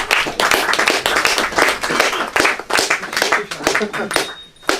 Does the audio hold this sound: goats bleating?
no